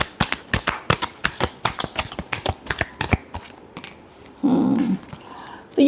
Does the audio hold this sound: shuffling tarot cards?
yes